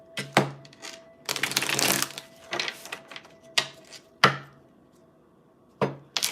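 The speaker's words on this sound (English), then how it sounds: "I'm going to reshuffle" A deck of tarot cards is shuffled by hand in short bursts of riffling and rapid flicking, separated by sharp taps as the deck is squared against a surface, close and quiet with no talk.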